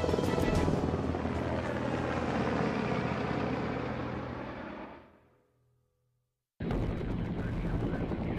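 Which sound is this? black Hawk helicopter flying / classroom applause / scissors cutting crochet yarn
black Hawk helicopter flying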